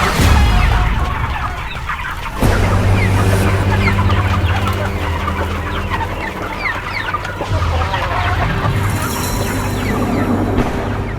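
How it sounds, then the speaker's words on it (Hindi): Several chickens cluck and squawk close by in an agitated, continuous chorus, with a low background hum and no clear speech. "अरे ये मुर्गियां! अरे मेरी मुर्गियों को पकड़ो!"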